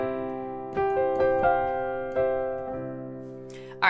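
A short pop piano lick built on a sus4 chord plays as a handful of struck notes over a ringing sustained chord, fairly quiet and close, with no talking.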